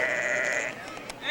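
A single sheep bleats in a long, wavering cry, close and clear, followed by a brief quieter pause and the start of another call.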